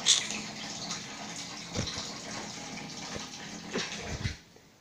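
Water at 60 degrees pours and gushes softly into a container for candy making, a quiet continuous flow with a few louder splashes before it tapers off.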